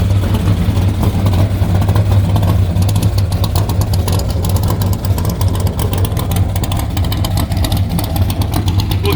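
A 1971 Camaro Z28 split bumper with a Bill Mitchell 454 small block rated at 640 hp idles in a deep, steady, loud rumble, close by and unbroken, with a slightly lumpy pulse throughout.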